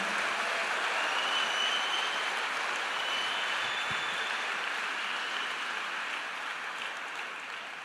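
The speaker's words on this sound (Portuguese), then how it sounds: "Agora dá um aplauso ao Cordeiro." A church congregation applauds together, a dense, steady wash of clapping that sounds like heavy rain and stays fairly faint and even, easing slightly toward the end.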